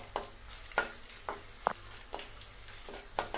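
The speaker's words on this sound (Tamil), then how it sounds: "இதோட ஒரு 3 வரமிளகாய் ஆட் பண்ணிக்கலாம். இதுவும் எண்ணெயில் பொரியட்டும்." Three dried red chillies frying in hot oil for Tamil lemon rice, giving a steady soft sizzle with a few brief crackles and taps spread through it.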